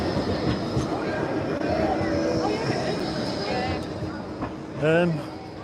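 A tram rolls past on the Blackpool seafront at night, a continuous rumbling clatter of wheels on rail with a rising screech near the end, heard fairly close.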